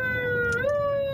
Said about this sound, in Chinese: 我们用这个警车鸣笛开道